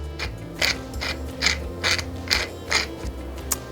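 Fresh black pepper cracked in a pepper mill, a series of about seven close, crisp grinding ratchet twists in a regular rhythm.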